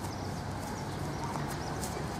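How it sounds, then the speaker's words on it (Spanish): An overo azulejo horse, used to parades and city traffic, walks outdoors with steady clip-clop hoofbeats under a constant broadband wash of noise. "Es un caballo que camina un poquito en la montada"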